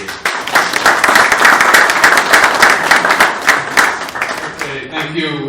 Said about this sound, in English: Ladies and gentlemen, with a round of applause.